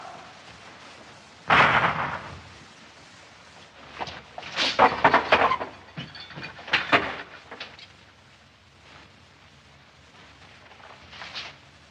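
Gunfire in a 1955 Indonesian black-and-white drama: a sharp loud blast followed by several scattered bangs and rattling impacts over a quiet background, with no talking.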